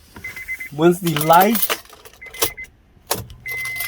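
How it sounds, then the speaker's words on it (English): A key turns in the ignition of a Honda Pilot, followed by the warning chimes and short electronic beeps of the dashboard as the power comes on. A nearby rattle of the key ring runs under a brief human sound. "you're gonna turn the key to the on position"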